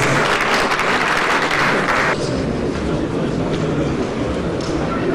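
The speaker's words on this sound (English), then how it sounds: "Please everyone give him a resounding applause, please." A large audience at a live televised event in Jigawa State, Nigeria applauds continuously, a dense, loud wash of clapping that drops to a softer, thinner level midway through.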